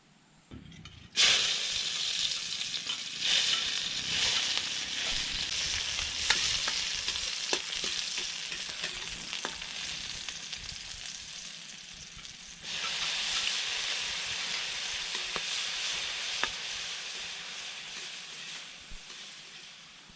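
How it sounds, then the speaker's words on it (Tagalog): Corn sautéing in a hot pan for a Filipino ginisang mais dish, giving a steady loud sizzle and hiss with occasional stirring scrapes, continuous throughout and briefly quieter in the first second. "At magigisa na po tayo."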